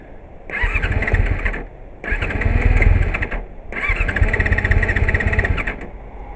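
A 1999 Yamaha R6 motorcycle engine cranks in three separate bursts of about a second or more each, a close, loud whirring starter grind that never catches and runs, with short pauses between attempts.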